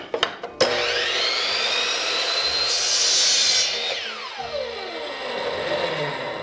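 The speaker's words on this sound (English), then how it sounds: "let's trim this piece of wood down" A power tool trims a piece of wood for a handmade wand, starting with a few sharp knocks, then a loud, steady whining cut that rises to a harsher screech before winding down, close up.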